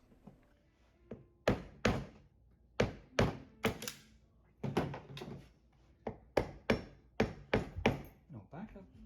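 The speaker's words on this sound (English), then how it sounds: "the staples weren't being fired all the way in with the stapler, so I hammered them in" A hammer driving staples into the hard wooden frame of a mid-century modern accent chair, heard as a close, uneven series of sharp knocks in short bursts.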